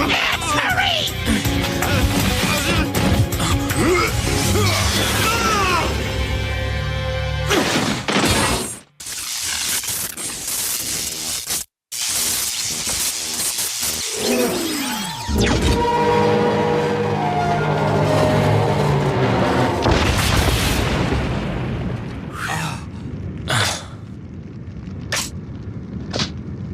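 Generator being shot and blowing up in Mega Man Maverick Hunter X, a loud, dense game scene with crashing, shattering bursts and booming impacts over music and sound effects, with brief dropouts, as characters shout in between.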